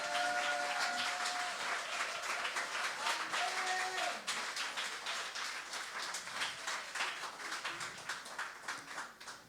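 A church congregation applauds and cheers at a French-language worship service, a dense, steady wash of clapping that fills the room and slowly thins toward the end, with voices calling out within it.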